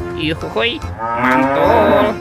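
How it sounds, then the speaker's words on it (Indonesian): A toy cow gives a loud, drawn-out electronic moo close by, while a voice briefly exclaims over the start of it. "Tuh, ada sapi mo."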